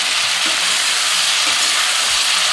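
Brinjal pieces frying in hot oil in a home kitchen pan, a steady loud broadband sizzle that holds evenly throughout with no voices.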